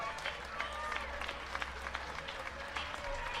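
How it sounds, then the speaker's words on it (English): A crowd at a college softball game between Arkansas and South Carolina applauds steadily throughout, a faint, distant patter of clapping heard from the broadcast. "Round of applause for Denver Bryant"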